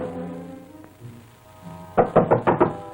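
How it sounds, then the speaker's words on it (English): A run of five firm knocks on a door, sharp and close, in a 1937 serial scene, with a quiet stretch before the knocking begins. "What is it? The door, Rose, quick."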